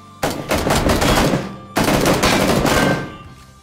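Two long bursts of rapid automatic gunfire in PUBG, each about a second and a half, loud and dense, with a short pause between them and no talk over the shots.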